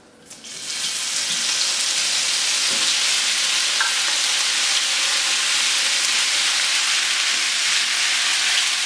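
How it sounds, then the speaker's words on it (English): Pork chops sear in a hot pan over medium-high heat, giving a steady, loud, broadband sizzle that starts within the first second and holds evenly to the end, with no talking. "In the same pan, I'm going to then cook my pork chops."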